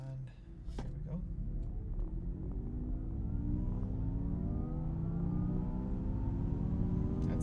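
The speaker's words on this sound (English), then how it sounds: "I'm gonna go ahead and do a full throttle launch here." A Honda Prologue Elite AWD launching at full throttle from a stop: a steady electric motor whine climbs in pitch over a constant road and tyre roar, close and sustained throughout.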